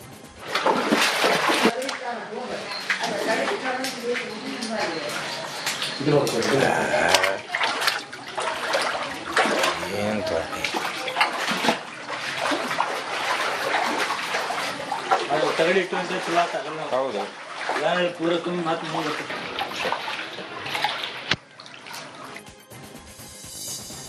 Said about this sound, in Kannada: ಬಾಗಲಕೋಟೆಯ ಬಾದಾಮಿ ಪಟ್ಟಣದಲ್ಲಿ ಧಾರಾಕಾರ ಮಳೆಯಾಗ್ತಾ ಇದೆ